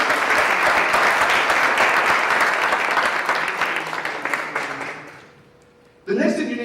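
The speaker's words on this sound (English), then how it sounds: "Give him a round of applause" A motivational-speech audience bursts into loud, dense applause that fades away over several seconds before a voice picks back up.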